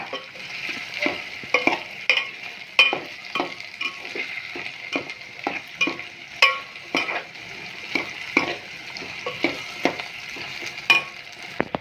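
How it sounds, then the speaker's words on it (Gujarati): Brinjal and potato curry being stirred as it fries in oil, with a steady soft sizzle beneath repeated scraping strokes of a spoon against the pan, close and clear. "તેને ધીમે ધીમે હલાવતા રહીશું એટલે હેઠે સોંટે નહીં"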